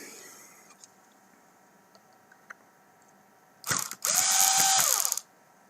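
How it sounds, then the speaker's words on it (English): A small powered screwdriver whirs in two short bursts while removing tiny screws from a TAO/LX7 drive motor. A few faint clicks come before the buzzing spin, which winds down in pitch as it stops. "So use a smaller screwdriver on these."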